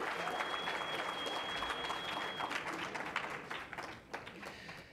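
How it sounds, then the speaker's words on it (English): Applause from the audience for the judges at a university Three Minute Thesis championship, a dense steady wash of many hands clapping that thins slightly toward the end. "Let's have a round of applause for our judges"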